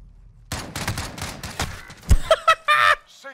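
Loud, close bursts of rapid gunfire in a multiplayer shooter video game, dense volleys followed by sharper single reports and a ringing tail.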